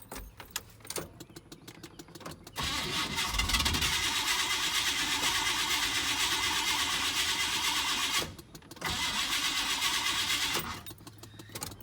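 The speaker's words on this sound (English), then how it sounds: "I'm gonna drain the fuel out of the fuel line. Put the key in the ignition" A 1994 GMC C3500 engine with throttle-body injection cranking over on the starter to drain the fuel line, two long, even, rhythmic cranking bursts separated by a short pause, close and loud with no talking.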